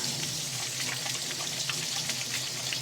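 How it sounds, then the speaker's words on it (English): Hands are washed under running tap water in a home kitchen, giving a steady close splashing hiss with small irregular spatters and no talking. "Wash my hands."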